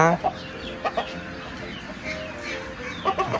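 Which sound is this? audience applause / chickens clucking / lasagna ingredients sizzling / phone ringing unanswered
chickens clucking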